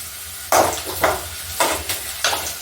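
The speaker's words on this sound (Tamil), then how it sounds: "காஞ்ச மிளகாய் பொறிஞ்சு வச்சிருக்கோம்" Dried red chillies fry in hot oil, giving a steady close sizzle broken by several sharp bursts as the pan is stirred.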